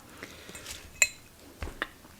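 Dishes and tableware in a home kitchen are handled with a few sharp, close clinks and knocks: one bright ringing chink, then a couple of duller taps, over a quiet background.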